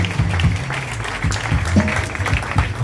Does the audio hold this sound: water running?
no